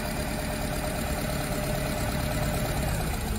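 Car engine idling roughly during a cylinder misfire test, with one cylinder disconnected so the engine shakes; a steady, continuous close-up rumble with no talk.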